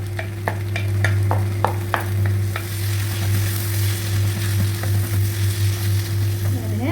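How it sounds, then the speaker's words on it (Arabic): Freekeh fries with small-chopped onion in ghee and oil in a pan on a gas stove, a close, continuous sizzle over a steady low hum, with sharp spoon taps on the pan early on. "طاسه على البوتاجاز، معلقه سمنه، معلقتين زيت، وهننزل ببصلايه متقطعه صغير"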